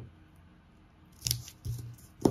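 Tape pulled and pressed onto a paper dart pattern gives a few brief close crackles and rips, separated by quiet pauses.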